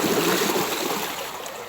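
Water flows in a steady, hissing rush close by, fading slightly toward the end, with no voices.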